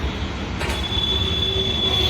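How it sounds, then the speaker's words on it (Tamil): Chennai metro train wheels squeal in a steady high-pitched whine over the continuous low rumble of the rolling cars, loud and close throughout with no speech. "கடைசியாக மெட்ரோ ரீச் ஆயிடுச்சு"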